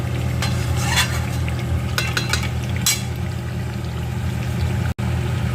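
Chicken kosha is stir-fried in a pan, with a steady sizzle and scattered scraping and stirring clatters from a utensil against the pan over a constant low hum.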